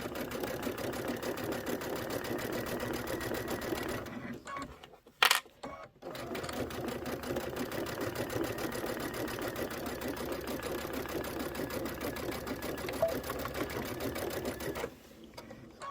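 PQ 1500 sewing machine stitching fabric for a pocket pillow, a fast, even mechanical chatter that runs steadily, breaks off briefly for a second or two with a clunk, then resumes and stops near the end.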